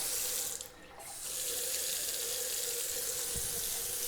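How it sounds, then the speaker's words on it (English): Tap water runs steadily into a bathroom sink, a loud, even hiss that dips briefly early on, then continues strongly with a small knock near the end. "The water's coming out at an angle, maybe it's put that in wrong."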